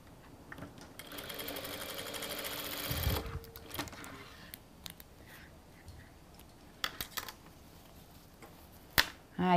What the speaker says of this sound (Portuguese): E vou rebater uma costura aqui.